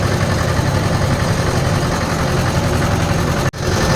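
A 5911 tractor engine idles close by with a loud, steady, low rumble and vibration, broken by a single abrupt dropout just before the end.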